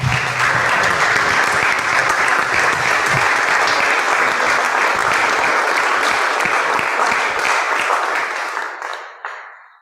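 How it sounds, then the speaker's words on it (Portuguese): A large audience at a talk by architect Manuel Aires Mateus applauds steadily and loudly for several seconds before the clapping tapers off and fades out. "Vamos uma salva de palmas ao arquiteto Manuel Aires Mateus."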